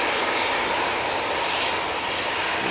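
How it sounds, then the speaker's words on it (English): Airbus A330-200 jet taking off from Manchester Airport, a loud, steady broadband engine roar filling the whole clip without pause, no voices. "That 330-200 is off to Palma de Mallorca."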